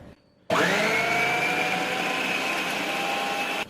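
A Preethi Zodiac mixer grinder slices cucumber for salad. The motor starts up abruptly into a loud, steady whine that holds for about three seconds before cutting off. No voices.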